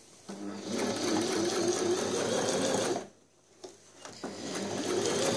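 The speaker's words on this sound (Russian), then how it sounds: "Так, напрямую строчку шьем сейчас." A Brother XL-6053 household sewing machine running a straight stitch, a loud steady mechanical whir that pauses briefly and then resumes, heard up close.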